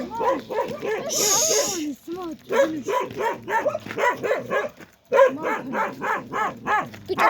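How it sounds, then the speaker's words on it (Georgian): A big dog barks repeatedly up close in a quick, uneven series, with a short hissing burst early on and brief pauses between bursts. "ანუ ძაღლი. დიდ ძაღლი."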